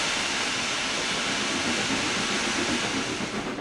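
Steam locomotive drain cocks opened on a Cornish branch line in the Trainz Plus simulator, giving a loud, steady broadband hiss of escaping steam that fills the whole stretch without a break.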